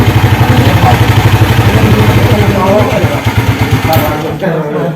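A motorcycle engine runs steadily close by with a rapid, regular pulsing idle that continues throughout, loud and unbroken.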